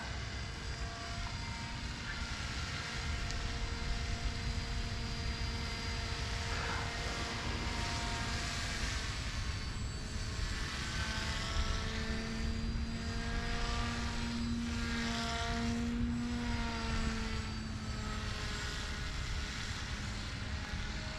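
Paramotor propeller engine in flight, a steady continuous drone with harmonic tones that shift in pitch as the throttle changes, loud and close throughout with wind rush behind it.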